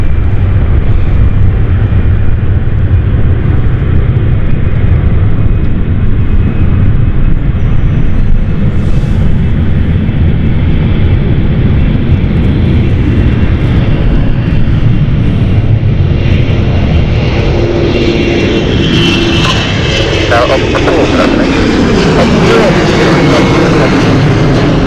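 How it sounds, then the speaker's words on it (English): A 2012 Embraer E190 jet airliner takes off from London City Airport with a loud, sustained engine roar and a broad rushing thunder that swells and shifts in tone as it climbs away. "This is a 10-year-old 2012 Embraer E190."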